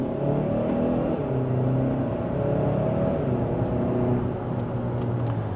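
A 2025 Hyundai Santa Cruz in sport mode accelerates hard in second gear with the pedal floored, its engine drone rising steadily as a continuous, fairly loud interior roar with no talking.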